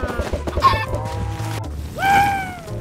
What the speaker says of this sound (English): Decided to start rearing some chickens.